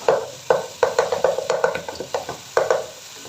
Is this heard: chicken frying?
yes